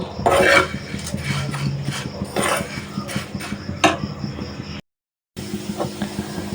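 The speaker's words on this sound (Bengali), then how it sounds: "চিরাগুলো হালকা একটু টেলে নিতেছি বেশি টালবো না অল্পই টালবো" Flattened rice (chira) lightly dry-roasting in a pan, with repeated scraping and clinking of a spatula against the metal in an uneven stirring rhythm, close and fairly loud, broken by a short gap of silence.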